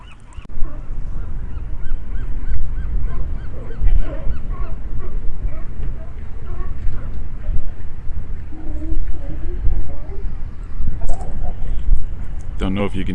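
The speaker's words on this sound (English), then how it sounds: "Don't know if you can hear the sea lions, but they're barking out there." Sea lions bark and honk repeatedly in the distance at Morro Bay, their calls mixed with wind-like outdoor noise while people talk nearby.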